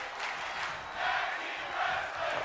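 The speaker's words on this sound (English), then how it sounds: "Crowd here in Albany, New York in the FWE Arena appreciating this opening matchup" Arena crowd at a wrestling match in Albany, New York, cheering in a sustained, hissy roar that swells and eases in waves, with no clear talk.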